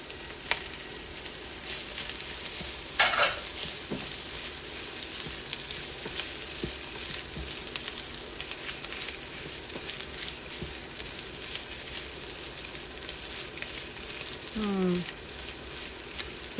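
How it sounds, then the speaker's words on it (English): Breakfast sausage sizzles in a pot for a chowder, a soft continuous frying hiss broken by a few scraping stirs and clinks of a utensil, fairly quiet and close. "And then we're going to add our breakfast sausage."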